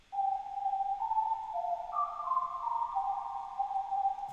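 Two whistle samples, a Nexus whistle panned slightly left and a Silent Master whistle panned slightly right, layered into a smooth sustained melody with overlapping tones, clean and steady with nothing else playing.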